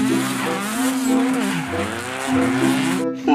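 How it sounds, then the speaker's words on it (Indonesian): A toy race car gives a loud revving engine whine with pitch sweeping up and down, plus tire squeal, as one continuous burst before a brief cut at the end. "Mobil balap"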